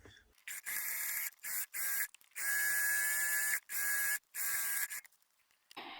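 A sewing machine stitches shirred fabric in bursts, its high motor whine starting and stopping repeatedly with short pauses between runs, close and clear.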